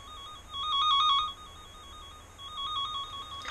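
A wire tracker's tracer probe held near a wire gives off a thin, steady electronic tone that swells louder in a few bursts and then fades back to a faint hum, with no talking.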